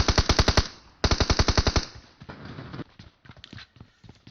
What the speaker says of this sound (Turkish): Aynen biri bize sıkıyor.